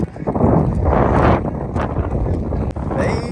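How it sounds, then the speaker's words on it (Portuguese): Strong cold wind on a beach at Okinawa's Heart Beach buffets the microphone in loud, rumbling gusts that swell and ease, with some faint background noise mixed in. "o vento tá pegando muito forte"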